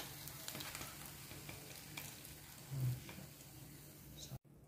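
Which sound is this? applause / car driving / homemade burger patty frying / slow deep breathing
homemade burger patty frying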